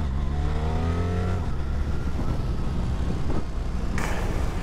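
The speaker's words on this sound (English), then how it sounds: "you open the throttle and it just fires up the road because of the torque" A 2025 BMW R1300 RS motorcycle pulls hard up a hill climb road, its engine note rising in a loud, continuous surge under open throttle, with wind rush and no talking.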